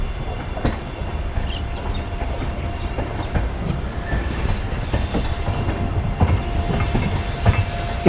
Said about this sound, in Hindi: छोटा सा कर्व लेते हुए ट्रेन लाइन पे जाती हुई हमारी अमृतसर बीकानेर एक्सप्रेस, जिसका नंबर है 14720